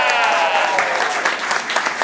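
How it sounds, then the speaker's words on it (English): A live audience claps steadily in a thick, even burst of applause, with a faint falling tonal whine near the start and individual claps poking through toward the end. "round of applause for Andrew Kepple"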